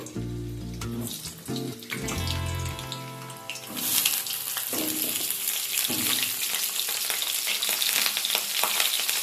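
Pointed gourd pieces frying in mustard oil in a kadai, a steady sizzle that swells louder and brighter midway through, with melodic background music running throughout.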